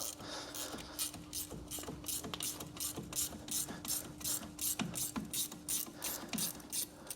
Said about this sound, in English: we're just going to take these 13mm bolts all the way out